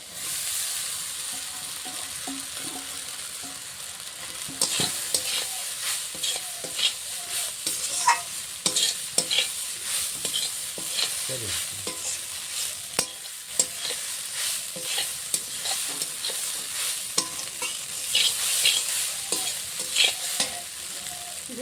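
Steady sizzling from a frying pan as washed flattened rice is stirred in, with a spatula scraping through it, close and continuous, with no voices.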